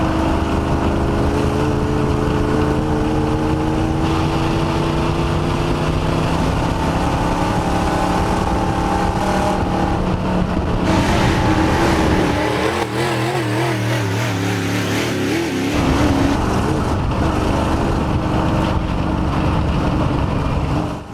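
Race car engine held at full throttle on a track, a loud sustained drone with shifting harmonic tones, a brief dip and change in pitch midway, then surging back.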